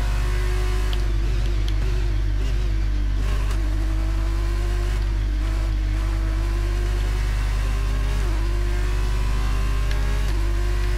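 Formula 2 race cars in the F1 23 video game, a continuous loud engine drone with a steady low hum and slight pitch shifts, sustained throughout without talking.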